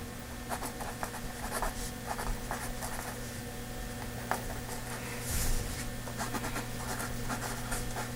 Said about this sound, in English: the final test can be when you finally decide to write with the pencil